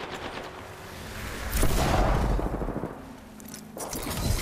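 Gunfire in the Apex Legends video game, with bursts of rapid shots and a heavier blast in the middle, loud and close, mixed with other game noise.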